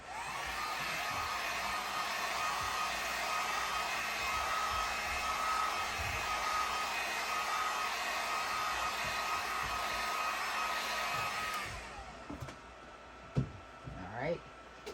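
A hot-air dryer blows across the white ink layer of a DTF print, a loud steady whooshing roar with a faint tonal whine that cuts off near the end, followed by brief handling noises and a voice speaking.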